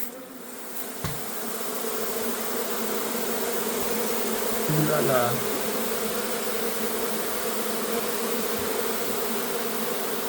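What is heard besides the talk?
honey bees buzzing from an opened beehive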